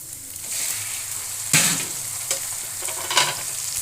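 Minced meat (keema) with garlic fries in a pan, a close, steady sizzle punctuated by a few sharp stirring scrapes and spatters.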